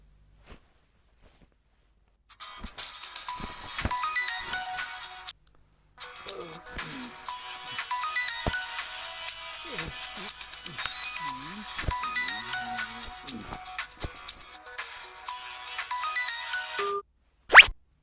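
Mobile phone rings with a melodic ringtone as it is called from a landline, loud and close, running for most of the stretch with one short break, then a sharp click as it ends.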